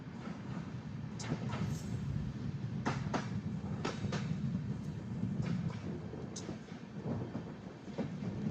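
The Mook Mati Express 11072 rolls slowly through Bhilai railway station on a curve, a steady low rumble broken by irregular sharp clacks of wheels over rail joints, fairly faint and without talk.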